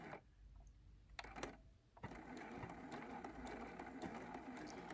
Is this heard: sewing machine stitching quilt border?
yes